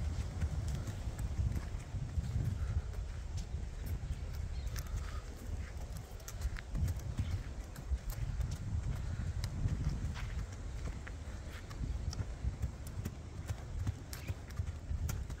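A picaso horse trained in bozal clip-clops steadily across the ground for a long stretch, its hoofbeats moderately close and fairly even amid low outdoor rumble.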